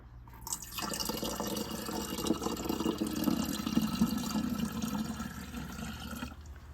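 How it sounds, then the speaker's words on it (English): Chemical-free spring water pours steadily into a jar for kombucha at home, a continuous close splashing gush that rises slightly in tone as the jar fills, then stops abruptly. "get my spring water that has not got any chemicals or anything in it and fill it up to the top"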